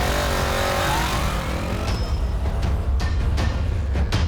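A Honda CB500 motorcycle with ABS and a single front disc accelerating hard during a braking test, a loud, rising engine roar with gear changes, close and dominant.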